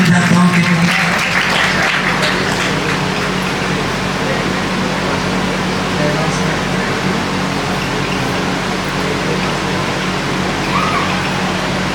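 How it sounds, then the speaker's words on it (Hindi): An audience at a Bhagavat katha religious discourse in Vrindavan applauds continuously and loudly for the whole stretch, a dense steady clapping that holds with only slight swells. "इन सबका ताली बजा करके एक बार स्वागत करें, सम्मान करें"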